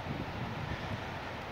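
Wind blows steadily on a wet spring day in Kemerovo as snow falls after rain, a continuous low rumbling roar buffeting the microphone with no voices.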